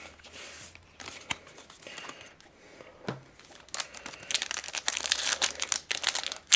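A foil trading card booster pack being torn open and handled up close, crisp crinkling and crackling of the wrapper, sparse at first and growing busier and louder toward the end.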